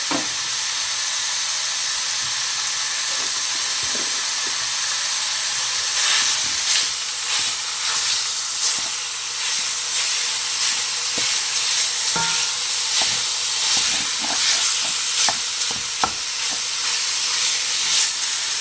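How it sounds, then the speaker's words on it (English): Steady loud sizzling and hissing of ground beef frying in a hot pan, with scattered crackles and pops throughout. "Let's see if we get a sizzle."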